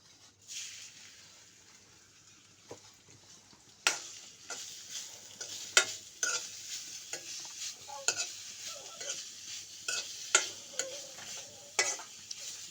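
Grated coconut fries in ghee, a soft steady sizzle close by, broken by repeated scraping and stirring strokes of a utensil against the pan, with no talking.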